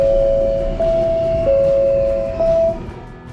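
Sydney Metro train doors closing, heard as a series of steady electronic warning tones that step between pitches over a constant low rumble of the train interior, loud and close with no talk.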